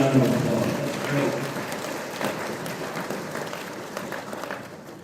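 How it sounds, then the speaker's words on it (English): Audience applause in a large conference hall at an opening plenary session, a sustained wash of many hands clapping that starts loud and gradually thins out over about five seconds, with no talking over it. "let's give him a round of applause"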